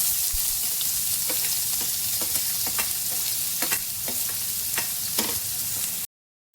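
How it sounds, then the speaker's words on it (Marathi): Onion frying in a pan with cumin and asafoetida sizzles loudly and continuously, with repeated scraping stirs cutting through before the sound cuts out briefly at the end. "हिंग टाकूया जिरा आणखी कांदा टाकूया"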